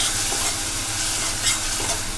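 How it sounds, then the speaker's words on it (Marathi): Chopped garlic and ginger sizzle steadily in hot oil in a pan while being stirred, a constant close frying hiss with faint scraping, no voices. "1 मिनिटभर असं परतून घ्यायचं"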